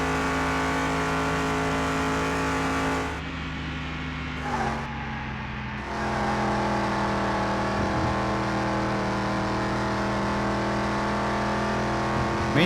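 Simulated car engine in Car Mechanic Simulator 2021 holding a steady drone while cornering, with a brief dip in tone midway as the car turns, then resuming its constant hum; no talking.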